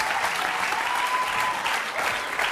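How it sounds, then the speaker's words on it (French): A television studio audience claps continuously in a dense, steady burst of applause that fills the room. No voices are heard over it. "On peut applaudir très très fort Ludovic et le remercier."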